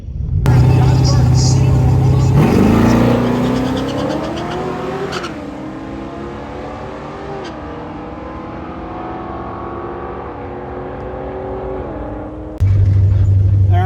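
A drag racing car makes a pass at Ozark Raceway, its loud engine revving hard through rising gear pulls, then easing into a long steady drone before a sharp closing burst.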